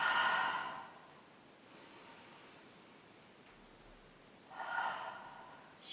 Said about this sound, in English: As you inhale, really try and fill the belly and the chest. Exhale, let it all fall.